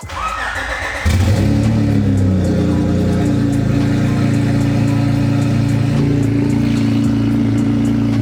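A turbocharged Honda engine cranks and catches, then runs loud and steady at a deep, rumbling idle with a faint whine, close by.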